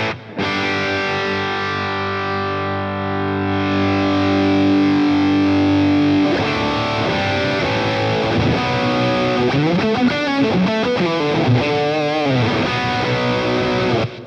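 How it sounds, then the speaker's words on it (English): Electric guitar played through a Boss Katana amp with a Blues Drive boost, first sustained overdriven chords and then a run of distorted single-note bends and riffs, loud and close with no talk. "The boost pedal that I'd recommend starting with is the blues drive, because it can pretty much do everything from real sort of mild gain to actually really sort of full on distortion."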